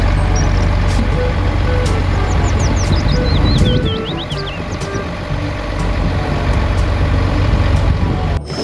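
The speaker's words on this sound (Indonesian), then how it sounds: "ini mobil derek." A large tow truck rumbles close by with a low steady engine drone, while high chirping beeps and squeals flicker above it.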